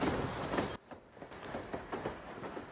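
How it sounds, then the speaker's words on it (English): Train in the farming video game Potion Permit rolling by: a loud, dense rumbling rush that suddenly drops off, followed by a quieter rhythmic clatter of wheels on track. "There's a train."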